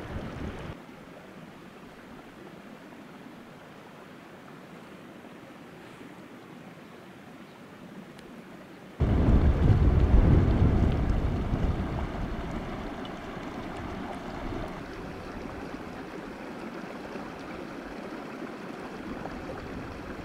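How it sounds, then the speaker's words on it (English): Wind gusting through trees in Idaho's Lost River Range, a steady broadband rush that suddenly swells into a strong, buffeting gust on the microphone partway through, then eases to a continuous roar. "The wind gets a little rough"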